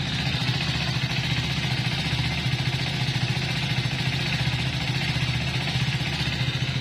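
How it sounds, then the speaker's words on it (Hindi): A modified Hero Splendor motorcycle's engine runs steadily at idle, close and loud, with an even low throbbing pulse throughout. "अब इंजन की आवाज़ सुनना आप।"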